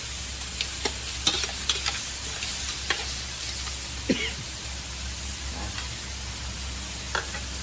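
Shellfish stir-fried with holy basil in a hot pan, sizzling steadily under sharp spatula scrapes and taps every second or so, close up, with a faint throat-clear or cough in the background.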